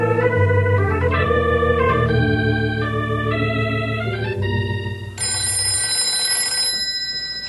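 An old-time radio drama's telephone rings with a steady, loud bell-like tone throughout, layered over musical tones without any talk.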